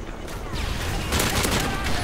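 MG36 machine gun in Modern Warfare 3 Survival mode firing sustained rapid bursts, loud and close, with dense rattling shots over the whole stretch.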